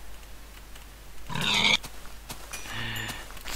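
A Minecraft pig oinks in a couple of short grunting bursts, the first louder and the second softer, over a faint game background.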